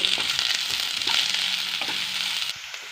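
Rice flour chowmein with salt sizzles in a frying pan while being stirred, a bright hissing fry with scraping stirs, loud and close, dropping slightly quieter near the end.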